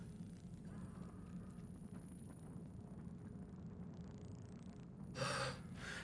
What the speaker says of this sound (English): It wasn't really a scream, it was more of a gasp.